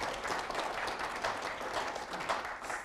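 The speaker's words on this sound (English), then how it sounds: "A round of applause, please" Steady applause from an audience at a panel discussion on NAFTA and free trade, a dense wash of many hands clapping at even loudness throughout, with no talking.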